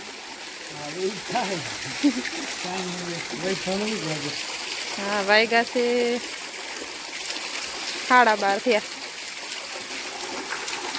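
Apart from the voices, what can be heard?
water running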